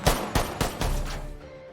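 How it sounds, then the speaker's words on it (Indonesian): Gunfire from a cowboy-style shootout scene in the 2020 film Honest Thief: three or four sharp, loud shots in quick succession, each with a reverberant tail fading out. "tembak-tembakan ala koboi pun terjadi"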